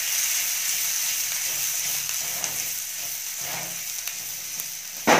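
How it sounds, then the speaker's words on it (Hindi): Onion, garlic and green chillies fry in hot oil, giving a steady close hiss and sizzle with a few soft tossing sounds near the end. No voices. "प्याज को जैसे 1 मिनट आप फ्राई कर लें, टॉस कर लें"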